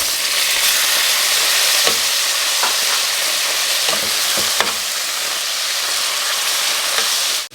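Dried mushrooms and garlic sizzle loudly in a hot pan, a dense, constant frying hiss broken by occasional scraping stirs, close and alone without voices.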